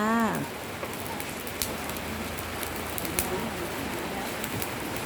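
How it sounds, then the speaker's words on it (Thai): Steady rain falls on an outdoor Thai market where grilled fish is sold, a dense even hiss throughout, with a brief voice-like sweep at the very start. "วันนี้ฝนตก"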